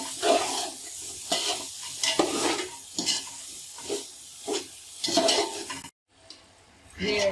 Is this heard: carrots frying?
yes